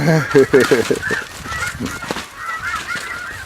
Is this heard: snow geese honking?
yes